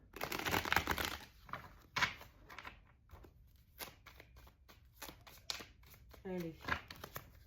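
Rider-Waite tarot cards are shuffled for a reading in a string of crisp riffles and slaps, up close and fairly quiet, with a voice speaking briefly among them.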